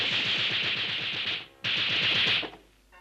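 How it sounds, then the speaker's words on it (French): Rapid gunfire bursts in a Lucky Luke western cartoon, two long stuttering volleys of rattling shots with a brief gap between them, loud and close, ending in quiet. "Nom d'un chien, des coups de fusil."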